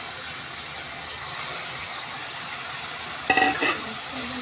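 Finely chopped tomato pieces go into a hot frying pan beside cooked millet-rice biryani ingredients, over a continuous close sizzle with a short clatter and splash of stirring near the end.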